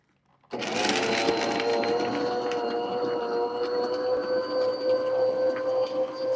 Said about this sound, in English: this mixer don't really have a slow setting